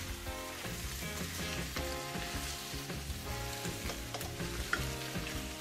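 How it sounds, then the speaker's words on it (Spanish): Pork loin with onion frying and being stirred in a pan, a steady close sizzle with occasional scraping, under continuous background music. "Y ahora lo vamos a remover todo"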